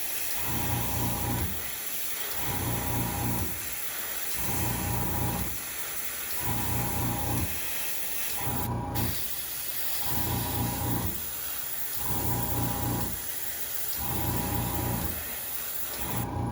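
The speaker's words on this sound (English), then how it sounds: "the shocks with the airbrush." Airbrush spraying paint onto the shocks of a diecast monster truck, a steady close hiss pulsing on and off in regular bursts about every two seconds, with a mechanical hum underneath.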